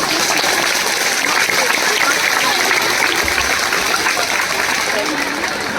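An audience claps after a school Independence Day performance, giving a dense, steady round of applause throughout that stays loud and even, with a voice speaking over the clapping.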